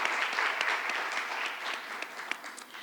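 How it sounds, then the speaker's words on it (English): A round of applause for a speaker being introduced at a report announcement event, dense steady clapping throughout, fairly soft and distant. "Please give a round of applause in advance to Darius Graham"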